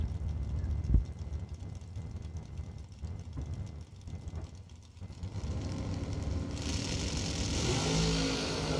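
Race cars make warm-up laps at a drag racing event, engines whirring and revving at a moderate distance, rising into a louder rushing pass toward the end.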